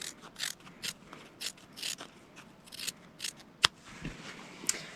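Scissors snipping through fabric while trimming a Sunbonnet Sue quilt piece: a quick run of close, crisp cuts in an uneven rhythm, about a dozen snips with a couple of sharper clicks, and no talking.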